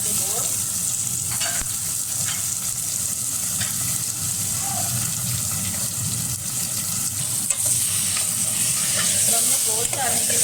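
Mutton pieces sizzle and fry steadily in a pan with onions cooked to light pink while being stirred for aloo gosht salan, a continuous close crackling hiss with occasional stirring scrapes throughout.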